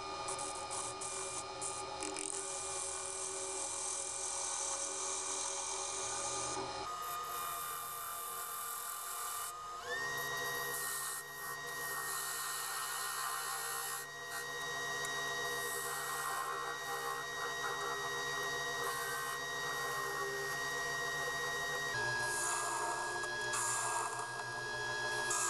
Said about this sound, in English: So we'll just do that with a small 10mm spindle gouge.